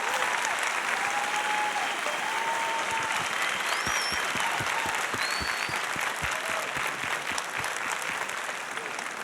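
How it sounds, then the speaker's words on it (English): Sustained applause from a large audience at a Prometheus film Q&A, dense steady clapping that holds for several seconds with a few faint whistles and cheers mixed in. "Please give them a big round of applause."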